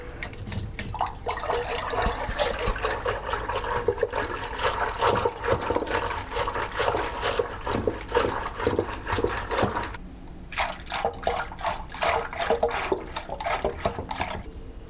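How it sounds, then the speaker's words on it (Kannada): Water is poured from a glass into buttermilk being made into masala majjige, a steady splashing pour that runs for about ten seconds, stops briefly, then resumes in shorter gurgling bursts, close and fairly loud with no talking. "ಇದಕ್ಕೆ ನಾನು ಇನ್ನೊಂದು ಅರ್ಧ ಗ್ಲಾಸ್ ನೀರು ಹಾಕ್ಕೊತಾ ಇದ್ದೀನಿ."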